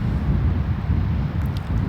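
Steady, heavy wind roars and buffets the microphone with low rumbling gusts in the Montana backcountry in spring, no other sounds standing out.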